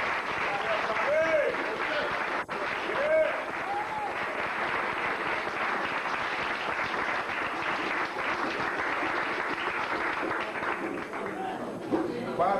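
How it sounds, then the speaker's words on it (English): An audience at a lecture gives a sustained, dense round of applause, loud and continuous for the whole stretch, with crowd noise and voices mingled in. "a great round of applause for coming here"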